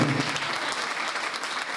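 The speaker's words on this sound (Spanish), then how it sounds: "Un fuerte aplauso a la Escuela Técnica de Turismo" Strong applause for the Escuela Técnica de Turismo at a local history event, with a brief moment of voices at the start before continuous clapping fills the room.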